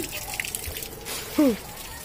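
Water trickling and dripping through a newly fitted pipe filter on a slip pipe line, a light steady flow close by, with a person's voice cutting in briefly partway through.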